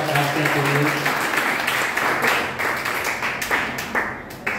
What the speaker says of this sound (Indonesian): Kita tepuk tangan untuk bapak-bapak yang hebat rakyat ini